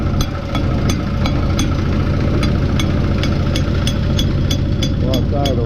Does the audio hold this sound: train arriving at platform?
no